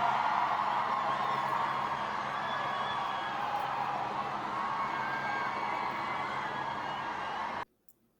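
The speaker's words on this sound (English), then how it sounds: "Listen to the crowd." Crowd cheering, a dense continuous roar of many voices heard from some distance, fairly faint and steady for about seven seconds before cutting off abruptly.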